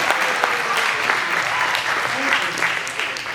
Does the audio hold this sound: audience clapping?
yes